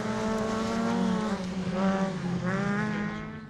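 Rallycross cars in a British Rallycross round brake hard into the Swifts hairpin on a loose surface, engines dropping and rising in pitch with a rasping whine and a touch of tyre scrub, fairly close and continuous.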